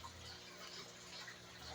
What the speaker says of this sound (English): now this is cold water comes out